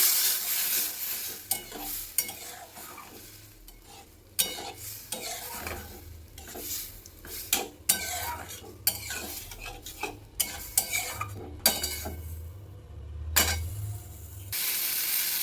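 Potato and taro fry in oil with salt and turmeric in a pan, sizzling steadily while a utensil stirs and scrapes in repeated sharp bursts, close and fairly loud.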